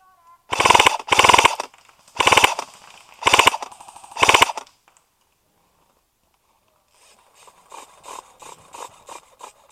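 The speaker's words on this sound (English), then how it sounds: "I shot that guy out right ahead of you, Donnie." Airsoft guns fire during an outdoor game: five loud, close bursts of rapid plastic-pellet shots in quick succession, a pause of near silence, then fainter, more distant bursts of fire.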